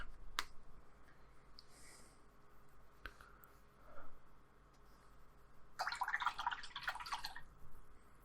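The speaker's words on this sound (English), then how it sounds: "Just wash my brush." A paintbrush used for acrylic seascape painting is rinsed in a water pot: faint scattered taps and clicks, then a brief, closer burst of swishing and sloshing water, all quiet with no voices.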